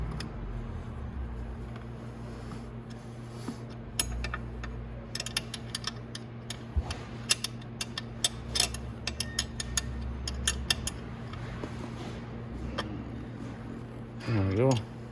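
A 12mm socket wrench ratchets while loosening the chain adjuster on a Venom E-Racer 1000W electric ATV, giving a series of sharp, close, irregular clicks over a steady low hum.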